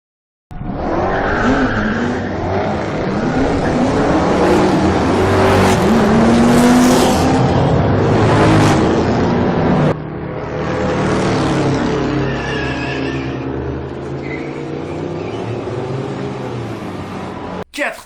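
Race cars from the Le Mans 66 racing scenes, roaring loudly and continuously with rising and falling engine pitch as they jostle on the Hunaudières straight, with brief tyre squeal and a sharp cut midway.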